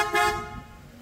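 A single loud blast from two sets of aftermarket super-bass horns on a 2025 Toyota Innova XE, brief and close, fading quickly into quiet.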